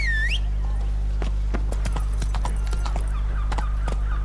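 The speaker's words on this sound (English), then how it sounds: "Si viene el caballo." A horse in The Witcher 3: Blood and Wine whinnies briefly, then trots in with steady clip-clop hoofbeats over a constant low game hum.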